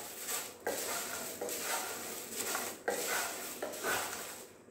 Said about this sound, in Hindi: कॉर्नफ्लेक्स को डालकर अब बस गैस का फ्लेम आप बिल्कुल डिम कर दें और 2-3 मिनट इन्हें और क्रिस्पी होने तक भून लें